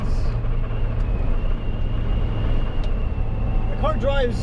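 Supercharged Mazda MX-5 Miata NA with a hard top driving, a steady low engine drone and road rumble heard from inside the cabin, with a brief voice near the end.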